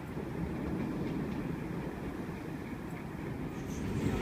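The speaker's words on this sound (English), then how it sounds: "Waratah A35 passing platform number 5." A Sydney Trains Waratah set passing a station platform at Burwood, a steady low rumble with faint wheel clatter and a distant squeal, heard continuously from close by.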